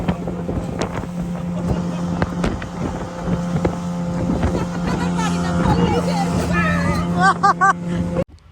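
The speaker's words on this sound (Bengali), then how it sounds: "মহেশখালী আরেকটা ঘাটে স্পিডবোট নিয়েছি কক্সবাজার ফিরে আসার আর এত বেশি বাম্প করছিল স্পিডবোটে" A speedboat crossing the sea near Maheshkhali toward Cox's Bazar, its engine droning steadily under loud wind buffeting and bumping thuds, with voices shouting toward the end.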